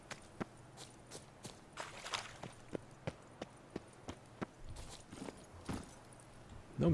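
Horse hooves clopping in The Witcher 3 video game, a steady series of sharp, evenly spaced footfalls over several seconds, moderately close and unaccompanied by talk.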